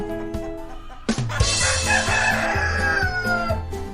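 Several chickens cluck and squawk close by in a busy, noisy burst, with a rooster-like crow rising over the flock, in a children's cartoon.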